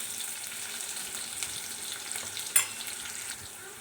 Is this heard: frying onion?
yes